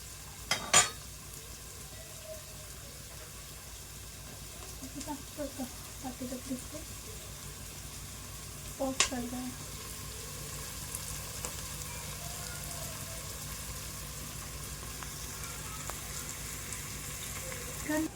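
Onions softening in a pan for dum biryani, a faint, low sizzle running under the room noise, with a few sharp clinks of a utensil and some background voices.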